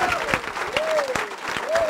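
A church congregation claps and cheers to acclaim the Lord, with loud, rhythmic applause mixed with voices and a sung or shouted tone over the top.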